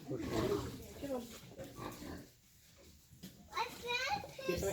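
Pig grunts at an orchard, short snorting calls mixed with a person coaxing it along and children's voices nearby, with a brief quieter gap midway.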